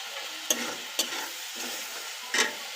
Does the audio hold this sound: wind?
no